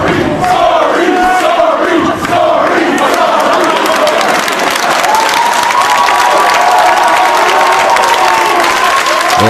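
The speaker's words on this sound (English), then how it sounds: "Now some chants calling out for hockey-related stuff as Daniels keeps Steen trapped on the mat." Wrestling arena crowd during Steen versus Daniels, a loud continuous roar with rhythmic chanting voices rising over the din, steady and dense throughout.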